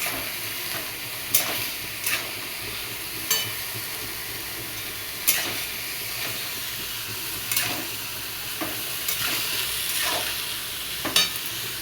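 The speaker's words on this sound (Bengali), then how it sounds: "কাঁচা লঙ্কা আর দিয়ে দেবো একটু নুন দিয়ে ভালো করে নাড়াচাড়া করবো" Chopped bottle gourd with green chili and salt is stirred in a pan for a vegetarian moong dal dish, with a soft continuous sizzle broken by about a dozen scattered scraping strokes of a utensil against the pan.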